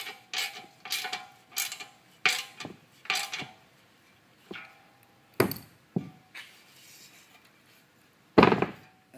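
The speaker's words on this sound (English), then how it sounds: "A 13mm wrench, whether it be open end or closed end, doesn't matter, and a 13mm socket. And go ahead and tighten these up." A 13mm wrench and socket tighten bolts on a table base during assembly, giving a series of sharp metallic clicks and knocks in irregular bursts, close by, with a few louder thunks.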